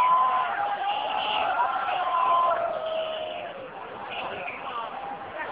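A street crowd at a Hong Kong July 1 protest march in 2009 applauds and cheers, a sustained, dense roar with whoops and a voice over the noise.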